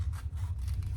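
Scissors trimming seatbelt webbing while sewing a sling bag, a quick run of close, crisp snips over a low steady hum.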